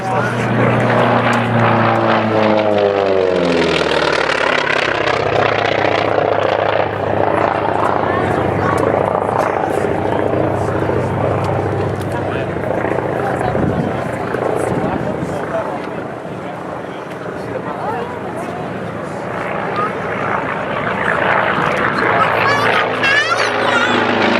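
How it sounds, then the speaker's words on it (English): Propeller-driven warbirds, including a T-28 and a T6, fly past at the Rocky Mountain Air Show. Their loud engine drone rises and falls as they pass, and an announcer talks over the noise for much of the time. "get pictures of the Warbirds as they fly by out here"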